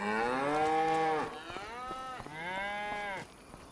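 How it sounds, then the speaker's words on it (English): Cattle on the main cow farm of a Farming Simulator 25 map moo in two long, loud, close calls, each a drawn-out bellow with a short pause between them and no talking over them. "So this being the main farm is the cow farm, so that is quite nice."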